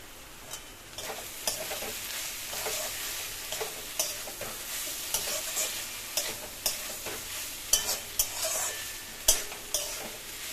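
Spices with cardamom powder stir-fry in a pan, a soft continuous sizzle broken by rhythmic scraping strokes of a spatula that grow more pronounced toward the end, moderately close with no talking.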